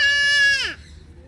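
A sheep at a cafe farm lets out a single loud, nasal bleat that wavers and then drops in pitch before cutting off, up close and with no one talking over it.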